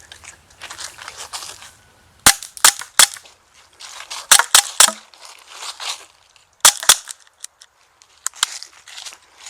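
A RAP4 RAM Walther P99 .43 caliber blowback paintball pistol fires a series of sharp, loud pops, some in quick doubles and triples, separated by pauses filled with rustling and handling noise.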